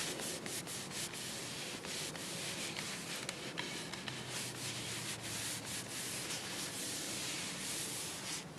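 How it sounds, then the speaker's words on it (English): Oil being rubbed by hand into a wooden axe handle, a steady, close, continuous rubbing and scuffing with a broad hiss and small uneven strokes, no voices. "And then what you pretty much do is you just rub that into the handle."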